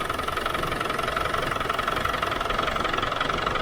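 A Land Rover Defender 300 Tdi 2.5 litre diesel engine idles steadily after a service with fresh oil, a continuous dense rattling clatter heard up close with no break or change in pace.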